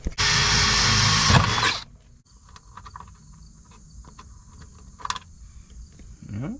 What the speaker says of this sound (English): let's drill into some metal and see how it reacts.